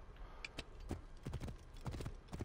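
Horse in the game Assassin's Creed Origins, with a rhythmic clip-clop of hooves and a brief whinny over steady game ambience, moderately close, with no talking.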